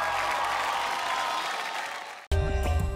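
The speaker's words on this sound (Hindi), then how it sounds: "सोनाक्षी के लिए जोरदार तालियां।" A studio audience at the Indian Idol Junior singing show claps for about two seconds in a steady dense patter, which then cuts abruptly to loud music.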